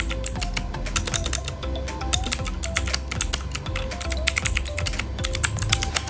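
Rapid, steady keystrokes on a computer keyboard as an address is typed into a form, clattering continuously and close up for several seconds with no voices.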